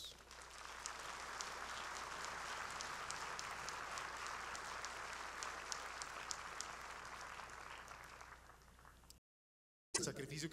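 A large audience at the 75th anniversary ceremony of the General Francisco de Paula Santander police cadet school gives sustained applause in honour of fallen graduates. The clapping is broad and even, fades slightly, then cuts to silence before a brief burst returns.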